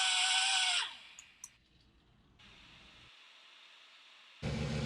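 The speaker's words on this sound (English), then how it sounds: "Here I'm using a pneumatic tool to do the stack of clutch plates." A pneumatic tool working a stack of Hodaka clutch plates: a loud high whine that spins down after about a second, a faint hiss and a couple of taps, then a sharp burst right at the end.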